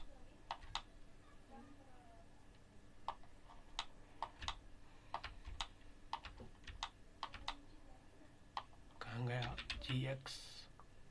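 Keys on a computer keyboard click in scattered, crisp taps while shortcuts are pressed in Blender 3D software, ending in a quick burst of faster typing, with soft speech underneath.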